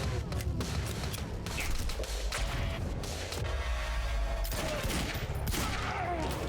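Dense game gunfire from a heavy pistol in Quantum Break, a continuous loud barrage of shots and impacts with explosive bursts, layered with battle effects throughout.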